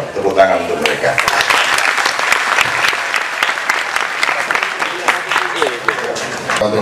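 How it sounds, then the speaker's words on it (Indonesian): Audience applause at a live Islamic discussion and music gathering with a host in Jombang, a dense crowd clapping steadily and loudly for performers throughout, with voices mixed into the sustained clapping. "Tepuk tangan untuk mereka."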